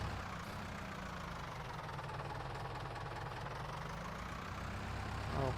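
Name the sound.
tractor engine in video game Farming Simulator 19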